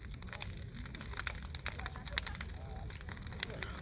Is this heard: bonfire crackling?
yes